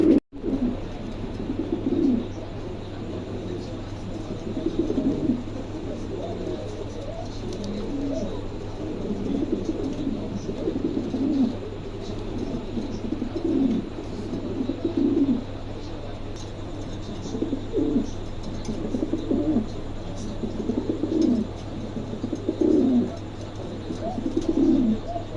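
Lahori pigeons coo in soft, repeated rolling phrases at a regular pace, fairly close, over a low steady hum.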